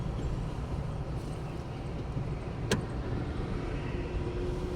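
A car rolls backwards during a driving lesson. Heard from inside, it makes a steady low rumble with one brief sharp click partway through, and no talking.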